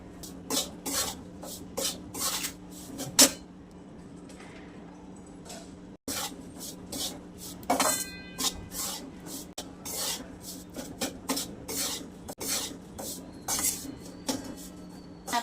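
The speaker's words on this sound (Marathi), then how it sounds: "हे पीठ असं मस्त तुपात भाजून घेणार आहे" Wheat flour roasting in ghee for dry-fruit laddoos, stirred steadily with a metal spoon that scrapes and clinks against the pan in a quick, continuous rhythm, close and fairly loud, with no talking.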